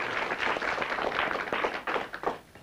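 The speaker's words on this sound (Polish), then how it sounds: "Koledzy, krótsze klaski, bardziej intensywnie." A group of colleagues clapping in short, intense bursts of applause, steady and fairly close throughout with no talking.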